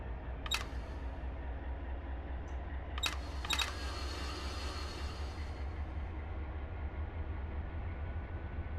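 Train cars coupling in the Run 8 train simulator game as a train eases onto an auto rack car with a mid-train DPU: a steady low locomotive rumble with a few sharp metallic clanks near the start and middle.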